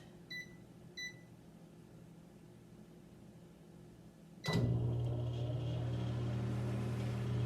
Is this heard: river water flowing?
no